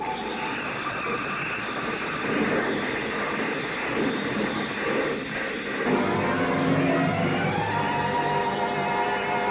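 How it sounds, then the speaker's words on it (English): A car skids and slides sideways on gravel toward a cliff edge as a radio drama sound effect, a continuous rough, noisy rumble that swells midway and holds steady, loud and alone without any voices. "The car skidded on gravel and slid sideways toward the cliff."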